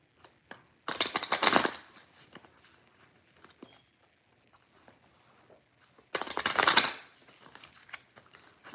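Tarot cards are riffled in two quick shuffles a few seconds apart, with faint handling clicks and rustles in the quiet between.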